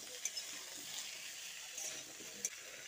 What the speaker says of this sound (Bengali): এবার সমস্ত সবজি দিয়ে আরও একবার ভালো করে এভাবে নেড়ে চেড়ে নিচ্ছি